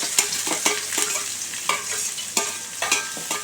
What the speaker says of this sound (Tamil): இது நல்லா ப்ரௌன் கலரில் வறுக்கணும்.